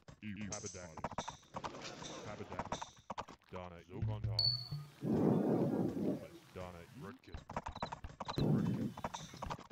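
Galloping horse hooves clip-clop steadily in a farming video game, with a brief whinny and some game sound effects, while a commentator talks over most of it.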